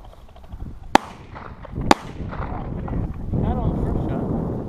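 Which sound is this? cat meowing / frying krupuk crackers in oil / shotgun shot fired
shotgun shot fired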